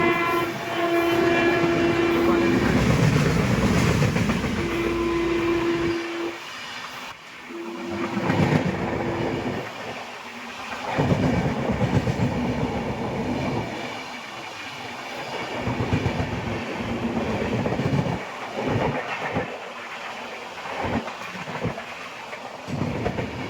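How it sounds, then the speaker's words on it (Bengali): Bhopal Express train passes on the adjacent track, its horn sounding in long and short blasts before the loud rolling rumble of wagons and a rhythmic clickety-clack of wheels over rail joints goes by close. "পাশের ট্র্যাক দিয়ে ভোপাল এক্সপ্রেস যাচ্ছে।"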